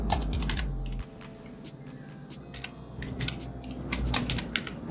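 Someone types on a computer keyboard, producing quick irregular clicks and taps that go on steadily over a low hum, with no talking.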